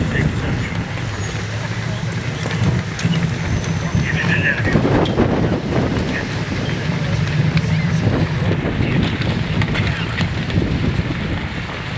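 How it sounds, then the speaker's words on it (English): Wind buffeting an outdoor microphone at a Memorial Day service, a steady low roaring rumble with gusty swells that runs throughout the clip. "Thank you, God, for the good wind."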